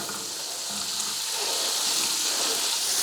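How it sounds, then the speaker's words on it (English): Diced onions in melted butter fry in a pan with a loud, even, continuous sizzle close by, with no talking. "you're just going to melt a bit of butter in your pan and add your diced onions."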